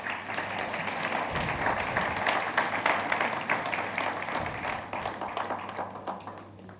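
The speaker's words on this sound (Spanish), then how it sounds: "Le damos un aplauso y nos paramos." A church audience claps together, dense and fairly loud. The rhythm is uneven and continues without pause, with a low hum underneath.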